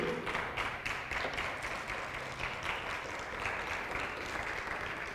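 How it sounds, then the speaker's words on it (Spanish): A church congregation claps in praise to the Lord during a Spanish-language service, a sustained wash of applause at moderate distance, fairly even with slight swells, and no voices standing out. "¿Por qué no le das fuerte el aplauso al Señor?"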